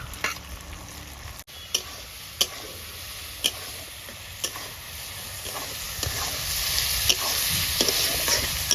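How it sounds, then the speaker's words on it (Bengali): Chicken pieces sizzle and fry in a pan for chicken ghugni, with a steady bed of frying noise broken by sharp, regular clicks and scrapes of a spoon stirring against the pan. "এবার আমি চিকেনগুলোও দিয়ে দিচ্ছি।"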